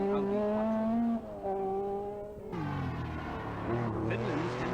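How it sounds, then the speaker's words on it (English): An Opel Manta rally car races through a stage of the 1984 Circuit of Ireland. Its engine runs loud and close, holding a steady note that drops as the driver shifts gear, and a commentator talks over it. "Cork's Billy Coleman goes through with his Opel Manta in second place"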